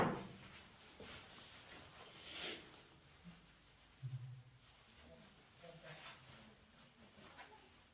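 Writing is rubbed off a classroom board during a science quiz lesson, with soft intermittent scrubbing strokes mixed with faint knocks, quiet and close, while a person talks.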